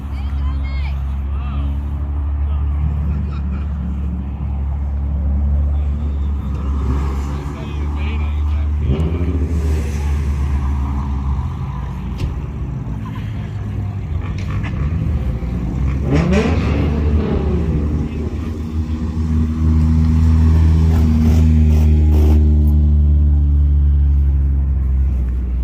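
Cars idling and revving at a drift event, a steady close engine rumble with occasional throttle rises and a swelling revved note near the end, with people talking over it.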